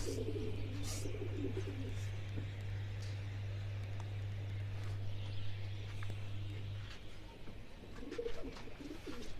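Pigeons kept for kabootar bazi coo and call nearby while a steady low hum runs underneath most of the time and a few faint wing flutters come and go.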